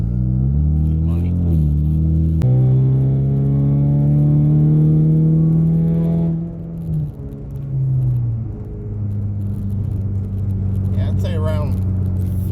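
A 2015-2022 Ford Mustang engine with a Velossa Tech intake resonator delete drones loudly and climbs in pitch through a pull, then eases off and settles. Voices come in briefly near the end.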